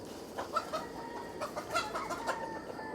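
Chickens cluck in short, scattered bursts at close range, with soft rustling and background noise between the calls.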